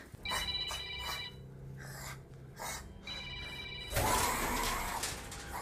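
Telephone ringing from inside a pocket, a repeated electronic ringtone in short bursts with gaps between them, followed by a burst of louder noisy movement.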